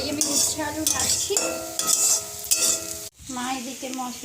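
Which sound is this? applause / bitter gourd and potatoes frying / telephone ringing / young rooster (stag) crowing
bitter gourd and potatoes frying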